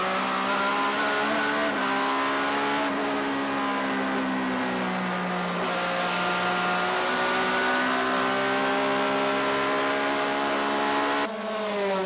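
JGTC GT race cars, a Honda NSX and a Toyota Supra, scream past at high revs in a steady, loud engine drone with shifting pitch and a brief gearshift dip near the end.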